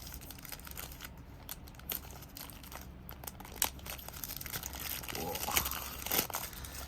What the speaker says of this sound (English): Kind of like those cornstarch packaging